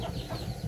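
Chickens cluck in a brief, close burst outdoors on muddy ground after heavy rain, with soft background noise.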